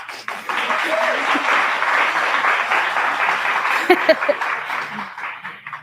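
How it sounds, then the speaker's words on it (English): Sustained audience applause at an annual dinner, a steady dense wash of clapping from a roomful of guests lasting several seconds with a few sharper claps near the end, fairly loud and close. "That deserves applause."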